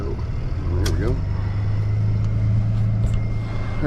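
A tow truck's engine holds a steady, loud idle with a low droning hum as its PTO engages for a roadside recovery, with brief voices over it.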